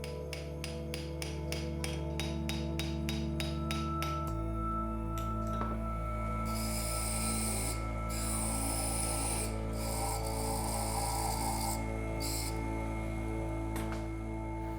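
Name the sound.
copper wheel engraving glass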